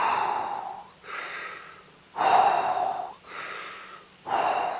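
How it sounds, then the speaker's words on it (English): Slow, deep breaths during a guided breathing exercise: five long exhales and inhales alternate in an even rhythm, each one airy and close, with quiet pauses between them. "Full breaths in, letting go"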